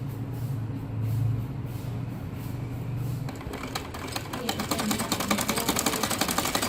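A sewing machine stitching the hem of a salwar, starting with a low hum and then breaking into a rapid, steady mechanical clatter of the needle running close by.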